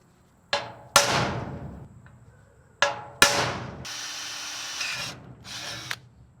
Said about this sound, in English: I've got the center holes drilled.